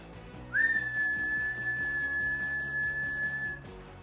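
A single long, steady whistled note held for about three seconds, clear and close, over soft background music.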